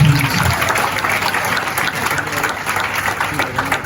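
Loud, sustained applause from an audience at a motivational business talk, a dense steady wash of clapping with faint cheering mixed in, continuing evenly from start to finish.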